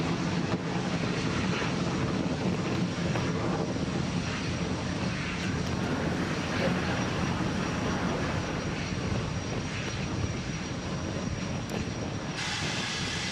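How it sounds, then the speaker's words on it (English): A SpaceX rocket climbs after liftoff on the CRS-31 cargo resupply mission to the International Space Station, a continuous, distant engine roar holding steady throughout without speech. "And we have liftoff."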